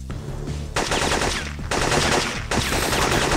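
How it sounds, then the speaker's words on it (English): Loud, dense bursts of automatic gunfire in the Syphon Filter video game, continuous rattling fire broken by brief pauses, with no talk over it. "Where are you shooting?"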